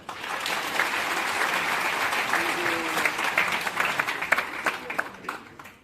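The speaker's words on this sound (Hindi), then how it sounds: "अगर देख रहे हैं तो आप अपने लिए ताली बजाएं" Sustained applause from a seated audience at an XPO forex business event, many hands clapping densely and steadily for about six seconds before tapering off, with faint crowd murmur underneath.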